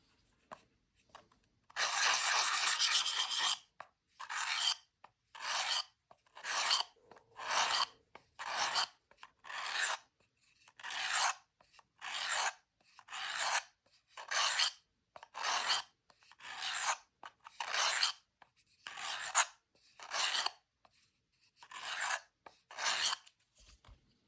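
Kitchen knife drawn across a sharpening stone in a long rhythmic run of rasping strokes, first one longer stroke and then about twenty short, evenly spaced ones, close and clear with short silences between them.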